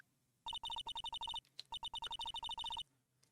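A phone rings in short repeated bursts after a redial in the Phoenix Wright: Ace Attorney game, two rapid trilling runs separated by a brief pause, clear and isolated.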